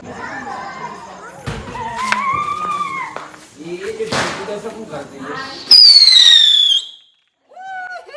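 Diwali firecrackers and a rope-fused bomb going off outdoors, with loud cracks and bangs, a shrill whistling rocket near the end and excited voices and chatter throughout.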